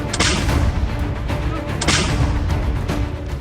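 Two heavy booms of M777 howitzer fire, each followed by a long rumbling echo that fills the space between them.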